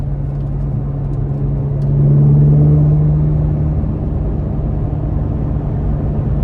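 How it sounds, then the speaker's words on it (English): Engine of a 2024 Chevrolet Corvette Z06 convertible with a flat-plane crank V8 accelerating, a close loud rumble that swells briefly in a rising tone and then settles back to a steady drone. "I've always loved the Z06, but specifically with The crank V8, I mean, my goodness"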